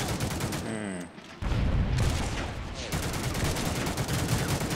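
Dense bursts of gunfire from the Mean Greens Plastic Warfare shooter game, a loud continuous fusillade of shots that drops briefly near the start and then resumes steadily to the end.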